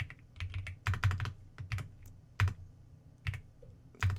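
Computer keyboard typing while entering a cabinet parameter in Autodesk Fusion, heard as irregular clusters of close keystrokes with short pauses between them, alone and fairly quiet.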